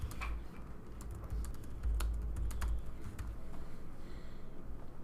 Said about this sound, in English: So I'm just going to type my message in here.